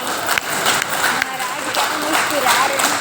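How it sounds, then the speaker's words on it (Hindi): An audience claps through a steady, busy patter of many hands at a spiritual talk, with voices mixed in under the applause. "ताली बजाओ"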